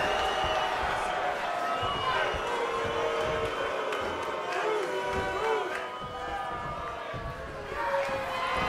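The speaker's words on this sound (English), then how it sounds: "With every move you make, you hear this capacity crowd following you on that journey." Large arena crowd in the wrestling video game WWE 2K20 roars and murmurs steadily throughout, a dense wash of cheering with a commentator's voice talking over it.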